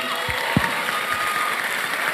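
An audience at a talk in a hall gives steady, continuous applause, a dense wash of clapping at a constant moderate level with no pauses and a couple of low thumps early on.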